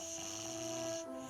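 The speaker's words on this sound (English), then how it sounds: "Little snoring noises." Sleeping beavers in the video game Timberborn make soft, steady snoring sounds, a continuous low rasp with a faint hum running under it, alone and without talk.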